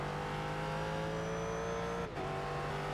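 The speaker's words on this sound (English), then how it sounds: "another Corvette comes up behind us, they can get us on a straight" A Corvette race car engine in iRacing drones steadily at high revs, its tone sliding slightly as the car closes in from behind, then briefly drops out before resuming as a sustained whine.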